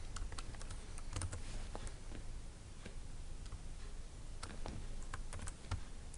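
Computer keyboard typing of HTML code, rapid irregular close key clicks over a constant low background hum, continuous throughout with no talk.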